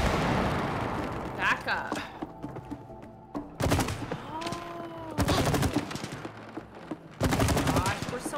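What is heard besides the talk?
sap exploding in video game It Takes Two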